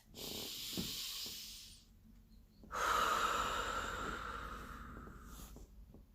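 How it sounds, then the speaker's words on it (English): Deep breathing during an EFT breathing exercise: one long, close breath in, a short pause, then a longer, louder breath out that fades slowly, with no talking. "Deep breath."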